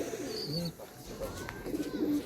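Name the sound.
pigeons cooing in a rooftop loft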